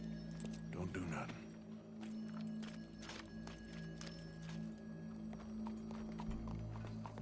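Horse hooves clip-clop in the video game Red Dead Redemption 2, a steady rhythmic trot under game ambience, with voices talking over it and a brief whinny-like burst near the start.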